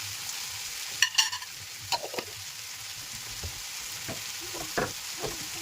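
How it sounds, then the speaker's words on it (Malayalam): Onions with garlic paste sautéing in a pan for a sausage dish, a soft steady sizzle broken by a few sharp utensil clinks and scrapes, close and fairly quiet with no talk. "ഞാൻ കുറച്ച് വെളുത്തുള്ളി പേസ്റ്റ് ആഡ് ചെയ്യുന്നത്"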